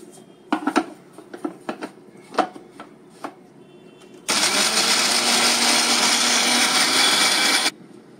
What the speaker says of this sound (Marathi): मी छोट्या भांड्यामध्ये मिक्सरच्या त्या मिरच्या, कोथिंबीर, साखर, मीठ, कैरीचा गर असं सगळं मी आधी हे वाटून घेते